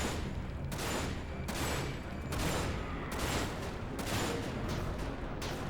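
Gunfire in the video game Dirge of Cerberus, a steady run of loud, rapid shots in several bursts with brief gaps, filling the whole stretch with no talking.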